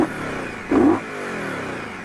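A 2023 Indian Scout Bobber motorcycle idles with a deep exhaust rumble, then gives one short rev that swells and drops back to a steady burble, close with no talk.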